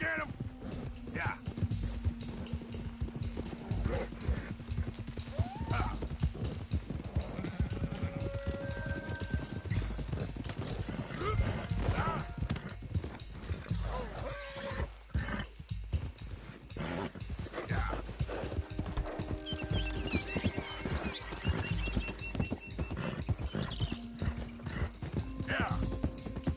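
Horse hooves clip-clop steadily and a horse neighs in the Red Dead video game, a loose stallion among others, with game voices talking over the continuous rhythmic footfalls.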